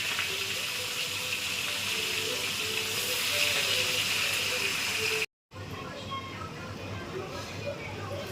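Hilsa fish frying in hot oil hiss in a dense, loud, continuous sizzle close by, with a voice talking over it, then a sudden brief cutout before the sizzle resumes slightly quieter.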